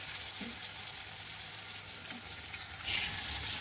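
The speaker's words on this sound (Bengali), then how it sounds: "বাসি চিকেন তো তার জন্য আরও ভেজে নিচ্ছি" Leftover chicken pieces fry lightly in a pan, giving a soft, continuous sizzle with faint crackles, quiet and steady throughout.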